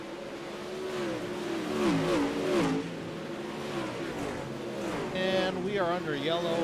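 Dirt-track race cars roar past as engines rise and fall in pitch and whine on an oval, a continuous loud drone with passing revs, heard under a commentator's steady talk.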